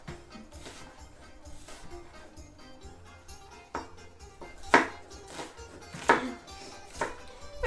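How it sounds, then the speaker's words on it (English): A knife slicing through onions in even strokes on a cutting board, several soft, regular chops with a few sharper knocks, set against a quiet kitchen background. "Taking your pointer finger here on the dull edge of the blade and just slicing down in even strokes."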